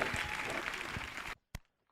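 A church congregation applauds in steady, full clapping that cuts off abruptly, followed by a single last clap.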